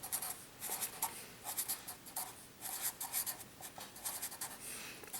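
Pen or pencil scratching out a handwritten solution to a calculus motion problem, steady bursts of close, dry strokes with short pauses between words, no voice.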